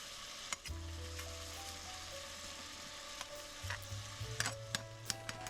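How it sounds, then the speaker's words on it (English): Bacon and crushed garlic sizzle steadily in a pot, a continuous crackling fry with scattered sharper pops and clicks, close and moderately loud with no talking. "Then throw your bacon in to start rendering. After a few minutes, add 2 cloves of garlic,"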